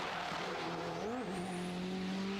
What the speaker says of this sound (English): Car sounds unbelievable as it goes past. Absolutely screams.